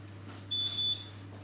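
A single steady electronic oven timer beep, about half a second long, sounds once as a bread loaf finishes baking, set against a low, constant kitchen hum with no talking.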